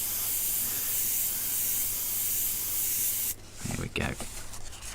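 An airbrush sprays paint in a steady, close, high hiss for several seconds before cutting off, after which a voice speaks over faint handling sounds.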